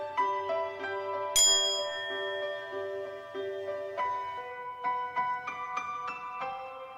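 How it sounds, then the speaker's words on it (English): A small bell sitting on top of a piano rings once with a bright, sharp ding that hangs and fades, amid sustained piano chords and a few other notes played around it. "And then maybe you ring that bell on top of that piano."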